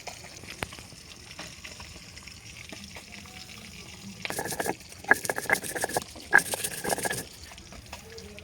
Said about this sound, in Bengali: ওইদিকে মাছটা ভাজতে দিয়েছি